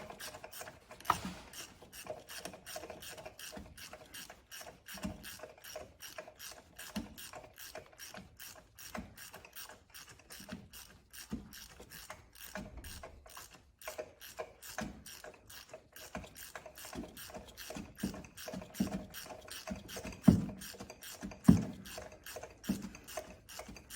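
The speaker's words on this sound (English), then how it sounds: "I'm not in a shop right now, so I don't have an air ratchet, so I have to do it all by hand." A hand ratchet loosens spark plugs on a Lexus RX350 through a long extension, giving rapid, steady clicking of the pawl throughout, fairly close and alone, with a few louder knocks near the end.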